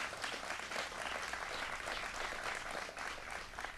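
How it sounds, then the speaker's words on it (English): Audience applause at a governor's property tax cap bill signing in Westchester County, an even, continuous patter of many hands clapping, fairly soft and unbroken for several seconds. "Let's give him a round of applause."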